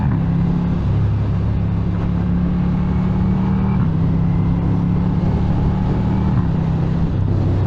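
A 2023 Ducati V4 Diavel motorcycle engine runs with a steady, deep, throbbing drone that holds a fairly even pitch with slight shifts, heard alone at moderate loudness.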